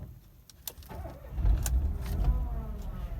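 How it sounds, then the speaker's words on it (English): A Renault Sandero is started up from inside the cabin: a few clicks and key jangles come first, then the engine catches and settles into a low, steady idle close by, with no talking. "We just started up the Renault."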